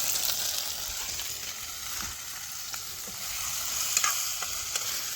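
Potatoes and whole garlic cloves fry in a spiced masala, a steady broadband sizzle with occasional stirring scrapes and clinks running throughout at moderate loudness, no voices.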